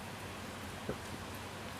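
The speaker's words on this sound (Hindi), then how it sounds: "ये बहुत तेज़ बारिश आ गई, हो सकता है आवाज़ आपको आ रही हो बारिश की" Heavy rain pours down in a steady, dense hiss with no gaps, carrying one brief soft knock partway through and no voices.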